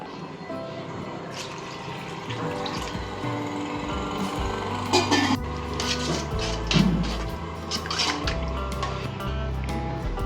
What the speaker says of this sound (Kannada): ನಾನು ನೀರು ಇಕ್ಕೊತಾ ಇದ್ದೀನಿ ಡಬಲ್ಲು